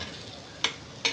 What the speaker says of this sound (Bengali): এখন আমি একটা ডিম দিয়ে দিব।